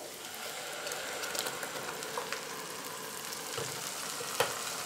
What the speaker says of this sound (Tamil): இப்போ அரைச்சி வச்சுருக்கிற தக்காளி விழுதை இதோட நான் சேர்த்துக்கிறேன்.